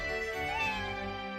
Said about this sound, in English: Did anyone else just hear a meow?